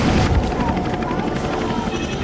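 Helicopter rotor chop in the video game Choplifter HD, a dense continuous whirring thump mixed with booms and gunfire, loud and busy throughout.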